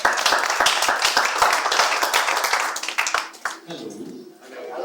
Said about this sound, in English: let's give a round of applause for Kitungu Macho